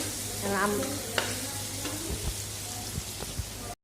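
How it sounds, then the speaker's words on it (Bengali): Rohu fish frying in a pan: a continuous, close, crackling sizzle with a few sharp spatters and clicks throughout, no talking. "এখন মাছ ভাজতেছি, রুই মাছ ভাজবো।"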